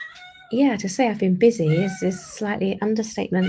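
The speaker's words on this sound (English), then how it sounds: "So that's my cat. I'm not sure if you can hear her." A pet cat meows faintly at the very start, and its mewing then carries on beneath a person's steady indoor talking.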